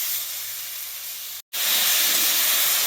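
Green unripe tomatoes sautéed in a pan give a loud, close, continuous hissing sizzle, cut by a brief silence and then louder and brighter.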